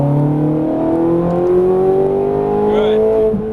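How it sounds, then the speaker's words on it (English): A Ferrari 430 Scuderia accelerates at full throttle on a race track, the engine note rising steadily in a loud, sustained howl from inside the car, with a voice speaking over it. "Full throttle, stay right side."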